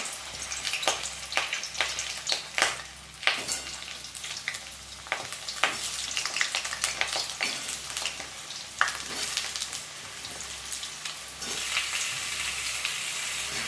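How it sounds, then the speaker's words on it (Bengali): Steady sizzling of potatoes frying in hot oil in a wok, with sharp crackles and pops scattered throughout, close and continuous. "এবার আলুগুলো ভেজে নেব"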